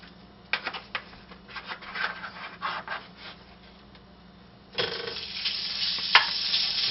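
Half a pound of hamburger meat browns in a pan for spaghetti meat sauce, with a utensil scraping and stirring in uneven strokes, then a louder, steady sizzle that swells partway through. No one talks.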